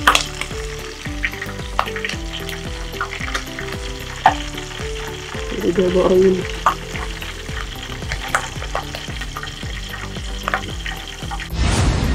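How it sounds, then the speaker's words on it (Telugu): Green chillies deep frying in hot oil for a chicken pakoda dish, a steady loud sizzle with stirring scrapes throughout and a brief splash of water near the end. "పచ్చిమిర్చి లైట్గా రోస్ట్ చేసి దాంట్లో ఆయిల్లో డీప్ ఫ్రై చేసేసి పచ్చిమిర్చితో సర్వ్ చేసుకుంటాము"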